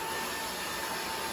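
A cordless stick vacuum cleaner runs steadily at close range, a constant broadband whine with a faint high tone, unbroken for the whole short stretch and with no voices over it.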